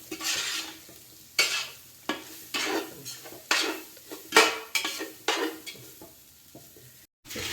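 Garam masala fries in a hot pan for chicken fried rice as a spatula stirs in sweeping strokes, each scrape bursting over a crackling sizzle, close and loud, with no talk.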